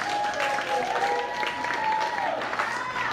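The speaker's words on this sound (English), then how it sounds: "give a big round of applause to everybody who hosts this venue" Applause from a crowd at a Friday-night community venue in San Diego, a steady, moderately loud wash of clapping with a faint tonal hum running beneath it.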